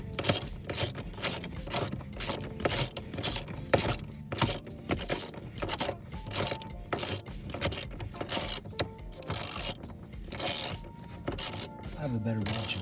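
A hand ratchet clicks rapidly and loudly up close, cranked in steady back-and-forth strokes while tightening the T50 front seat bolts of a 2013 Ford Fusion Titanium 2.0L.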